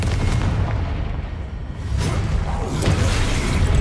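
Confringo fire spell blasts in the Hogwarts Legacy video game, a dense run of booming explosive impacts and whooshes that stay loud throughout, with a few sharper bursts near the middle and end.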